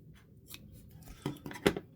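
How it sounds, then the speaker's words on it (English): A few sharp snips trimming material on a workbench, with scissors or cutters closing in short irregular bursts, close and moderately loud, the last cut the strongest. "we're going to trim that off"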